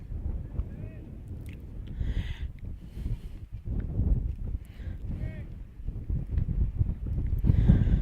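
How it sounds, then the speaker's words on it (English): Strong wind buffets the microphone at a baseball game, low rumbling gusts that rise and fall throughout, under a commentator's ongoing play-by-play. "Very, very windy here."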